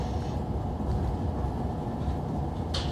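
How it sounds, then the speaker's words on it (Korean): A passenger train on the Gyeongwon Line pulls into Yeoncheon station, filling the space with a loud, steady rumble of wheels and carriage, topped by a brief high hiss near the end. "우리 열차 연천역에 도착하고 있습니다."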